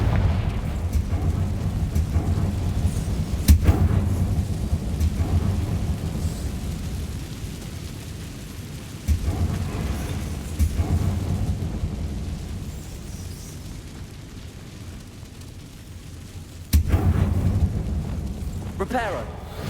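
A Confringo fire-blast spell in Hogwarts Legacy, with several deep booming explosions spaced seconds apart over a rumbling game backdrop, each landing with a sharp crack, while a voice speaks in between.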